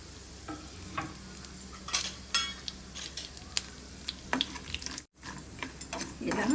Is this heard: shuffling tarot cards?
no